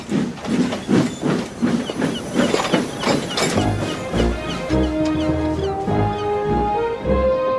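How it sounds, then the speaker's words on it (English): Steam locomotive Gordon chuffing out of the docks: a steady rhythmic run of hissing steam puffs, then clanking and a low mechanical rumble as the engine gets going, loud and close with no talking. "he chuffed proudly out of the docks"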